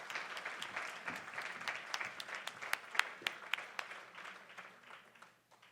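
At an awards gala, a moderately sized audience claps in a sustained round of applause, individual sharp claps poking out as the sound gradually tapers and fades near the end.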